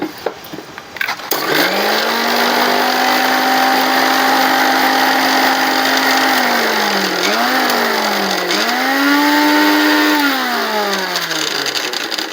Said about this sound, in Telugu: మిక్సీకి వేసేయడమే